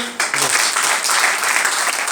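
An audience at an RCM business seminar in Sirsa breaks into dense, steady applause that fills the whole stretch, with a voice faintly under the clapping at the start.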